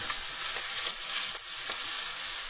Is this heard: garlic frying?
yes